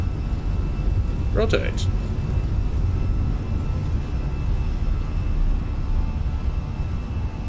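Airbus A320 engines held at takeoff thrust in a flight simulator, a loud steady broadband roar and whir filling the whole clip, with a brief spoken callout partway through.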